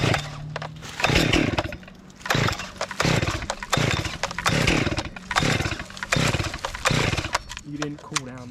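A chainsaw cuts up a firewood log, its engine revving in repeated loud bursts with brief drops between cuts across the whole stretch, close by.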